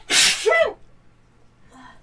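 A single loud sneeze, sharp and close, bursting out then trailing off into quiet, with a faint rustle near the end during a tabletop game session.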